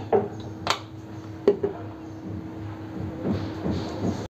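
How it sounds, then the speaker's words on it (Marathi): A metal cooking pot set down on a gas stove with a few sharp clanks and knocks, followed by softer shuffling and small metallic taps as oil is spooned in, all fairly close and quiet. "तर मी आता फोडणीसाठी गॅसवर टोप ठेवलं आहे, त्याच्यामध्ये मी 2 चमचे तेल घालते"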